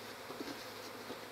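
Honeybees buzzing near a secondary swarm being caught: a dense, steady drone of many wings, close and continuous, with a brief nearer buzz passing by.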